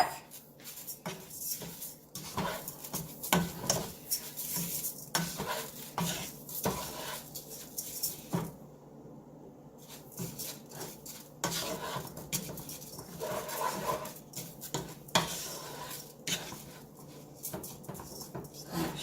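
Basmati rice stirred into ground beef in a pan, with steady scraping and clinking of a utensil against the pan in close, repeated strokes.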